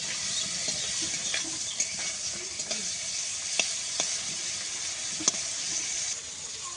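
Crab sizzling and frying in a pan of oil for a Bengali crab curry, a steady broadband hiss with scattered sharp pops and crackles throughout, close and fairly loud, with no talking.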